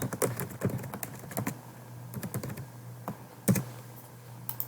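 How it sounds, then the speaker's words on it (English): Close, fairly quiet typing on a computer keyboard, with irregular clusters of key clicks and short pauses between them over a faint steady hum. "you can write condensate pump"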